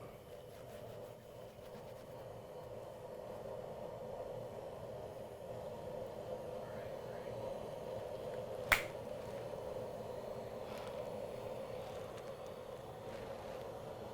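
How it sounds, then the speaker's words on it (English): A single sharp hand clap marking a film slate rings out once near the end, standing out against a low, steady background hum in an otherwise quiet room. "Let me know when you want to clap slate."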